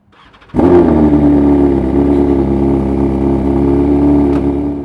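A motorcycle engine with a full-system titanium Akrapovic GP exhaust fires up abruptly and settles into a loud, throaty idle with a raspy exhaust note, close by and steady.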